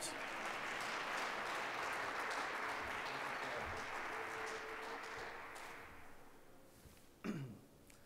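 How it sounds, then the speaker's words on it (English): An audience applauds at a university fundraising campaign celebration, sustained clapping that gradually fades over several seconds, ending with a voice near the microphone. "Tom, let's give him another round of applause."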